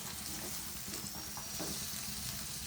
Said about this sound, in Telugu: చిక్కుడు గింజలు వేగనియాలి కొద్దిసేపు వేగనివ్వాలి